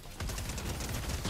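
Very rapid gunfire from a video game weapon with a glitchy, unnaturally high fire rate, a dense continuous burst of shots running loud and steady for the whole moment.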